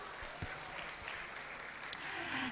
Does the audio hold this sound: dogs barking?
no